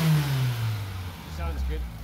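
A VW Mk1 1.8 8-valve engine on a Weber 32/36 carburetor revs briefly, its pitch dipping and climbing as someone talks over it.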